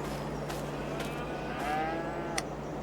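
Cattle lowing at a cow barn in Farming Simulator 22, a few drawn-out moos rising and falling over a steady low farm ambience, moderately distant and fairly quiet.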